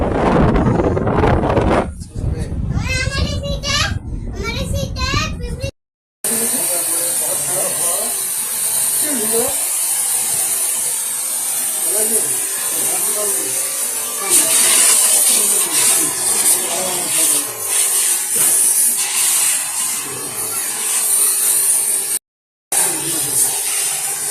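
A Blue Star air conditioner unit being spray washed after its cover is removed, a steady loud hissing rush of pressurized water close to the microphone, after a few seconds of talk at the start.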